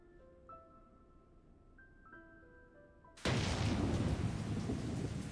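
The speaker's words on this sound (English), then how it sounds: "There was a fierce thunderstorm in the evening" Soft game music with a few sustained tones plays, then a sudden loud burst of thunder and heavy rain crashes in and continues as a dense, steady roar in the Higurashi When They Cry visual novel.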